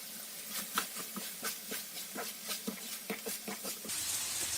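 Minced meat sizzles and crackles as it fries in a pan with garlic and peppers, a steady close hiss scattered with quick pops and spits, the hiss swelling louder near the end.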